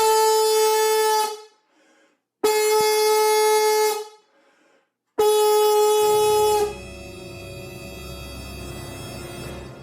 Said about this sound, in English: I could hear the ships coming in